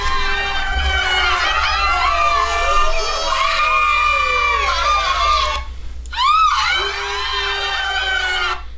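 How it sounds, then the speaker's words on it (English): A stock effect of a medium crowd of adults yelling, shouting, screaming and laughing, loud and overlapping, with a brief break before a final shrill rising scream. "medium crowd of adults yell, shout, scream, and laugh."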